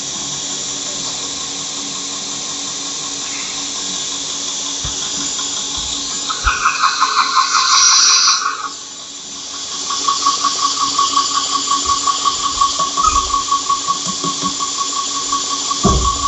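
Steady, close whine of a belt grinder working a knife blade bevel in a Black Dragon bevel grinding jig, running continuously with a brief louder stretch mid-way and a short dip before resuming.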